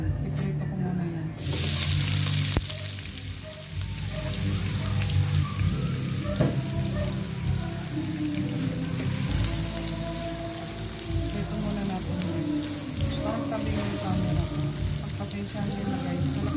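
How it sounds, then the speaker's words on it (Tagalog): Hotdogs fry in a pan with a loud, dense sizzle and crackle, steady throughout with occasional sharper pops. "magpiprito na muna ako ng hotdog"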